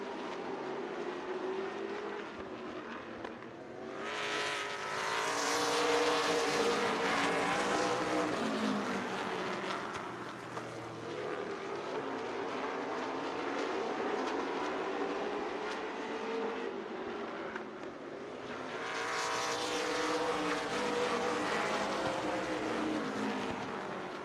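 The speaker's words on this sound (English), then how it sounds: "A couple of warm-up laps coming up." Tundra Super Late Model race cars roar past on warm-up laps at Dells Raceway Park, engines swelling loud as they pass close, fading to a distant drone, then surging again, with no talk.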